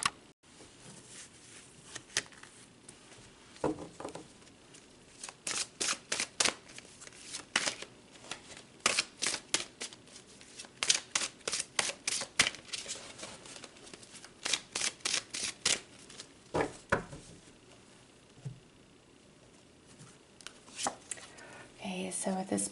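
Tarot cards being shuffled by hand in repeated quick riffling bursts, close and crisp, with short pauses between rounds and a voice talking softly underneath.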